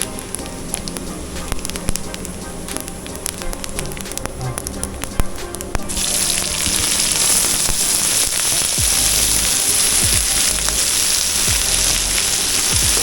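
Cumin seeds frying in sunflower oil in a pan, a dense crackling sizzle that jumps louder and brighter halfway through and then holds steady, with faint background noise earlier.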